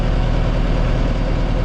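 Case IH tractor idling in a field after mowing with a 15-foot Rhino 3150 batwing cutter, a loud, steady low diesel rumble with even churning texture, close up and with no voices.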